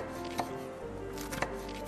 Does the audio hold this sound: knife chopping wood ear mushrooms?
yes